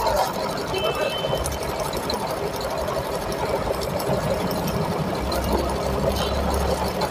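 A Juki sewing machine runs steadily while stitching a double-needle design with two threads, a constant close mechanical whir and rapid chatter without pause.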